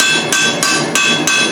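A rivet hammered cold while forging blacksmith tongs, four sharp ringing metal strikes at an even steady pace, loud and close with bright lingering ring between blows.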